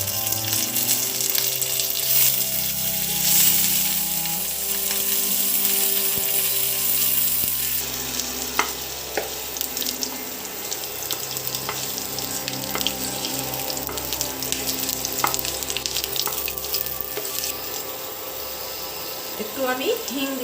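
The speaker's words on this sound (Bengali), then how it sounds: "প্রথমে আলুটা একটু ফ্রাই করে নিতে হবে হালকা।" Potatoes and pumpkin fry in hot oil in a pan for a Bengali pumpkin curry, giving a steady broadband sizzle that runs the full length, with kitchen clatter and a faint voice now and then.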